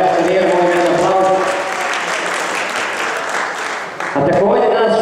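Dense, loud applause from an audience at the opening of a chess tournament honoring last year's winner, sustained for several seconds with a brief dip near the end, a voice speaking over the start and finish.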